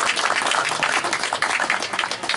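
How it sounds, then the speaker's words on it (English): An audience applauds, dense steady clapping filling a short stretch without talk. "So a round of applause for them."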